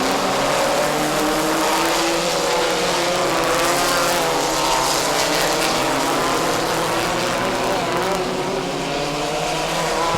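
Race cars circling a short oval track in New England, a continuous loud roar of several engines blending and droning throughout with no break.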